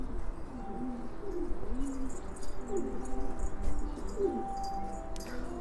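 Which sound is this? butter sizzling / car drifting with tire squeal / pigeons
pigeons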